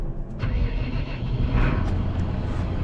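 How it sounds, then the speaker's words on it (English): A borrowed black Massey Ferguson tractor engine runs steadily at close range, a dense, continuous low rumble with a slight rise in intensity partway through and no talking. "we are in the Black Massey, so we're just borrowing this tractor"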